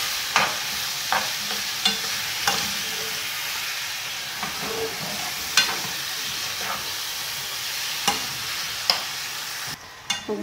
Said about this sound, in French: Les poêlez bien jusqu'à ce qu'il n'y ait plus d'eau, que la viande soit bien sèche et bien cuite.